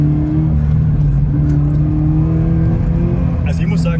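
Toyota GT86 engine revving hard at full throttle, a loud sustained drone that climbs slightly in pitch, heard from inside the car with a short burst of other noise near the end.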